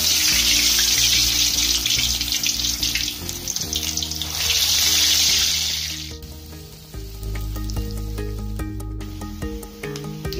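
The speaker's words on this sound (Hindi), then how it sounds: "अब हम बड़े तलेंगे" Vadas for dahi vada fry in hot oil in a kadai, making a loud, steady bubbling hiss for about six seconds that then drops away. Background music plays throughout.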